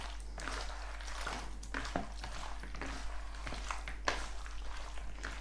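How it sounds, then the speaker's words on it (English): Curry powder, garlic, ginger and onion fry in a pot with a soft continuous sizzle, broken by light stirring scrapes and a couple of sharper clicks, over a steady low hum. "the curry powder over there with the garlic and the ginger and the onion cooking on nicely"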